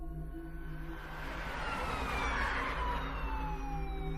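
An ambulance races down the road with its siren blaring, a loud, rising and falling wail that swells closer over a low roar of traffic and engine.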